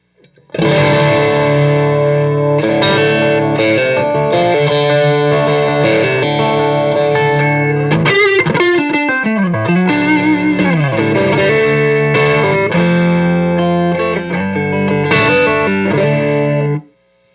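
Distorted electric guitar plays loud, sustained chords and a descending run through a PRS MT100 amplifier, heavy overdrive, stopping abruptly at the end.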